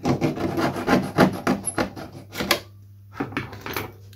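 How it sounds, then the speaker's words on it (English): Old glue is scraped from a wooden joint in the fuselage of a KA8 glider, with rhythmic rasping strokes close up, a short pause, then a few more scrapes. "To do so, I've got to clear out the glue that's under it."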